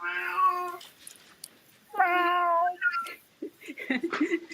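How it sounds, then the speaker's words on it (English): A cat meows indoors in two long, clear, drawn-out calls about two seconds apart, followed by shorter, rougher yowls, with faint room noise and no talking. "Whose cat is that?"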